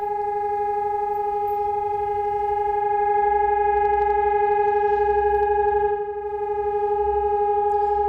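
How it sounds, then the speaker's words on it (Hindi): A steady air raid siren in Rivne, Ukraine, during the Russia-Ukraine war drones on a sustained, unwavering pitch, loud and continuous throughout, with faint low rumble beneath. "हवाई सायरन की आवाज गूंज रही है।"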